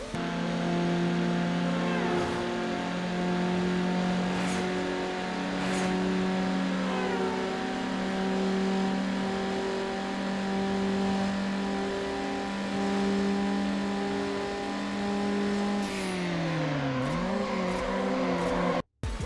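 A car in Need for Speed Underground races with a loud, steady engine drone and shifting gear pitch, revs climbing then dropping sharply near the end before cutting out, with no talking.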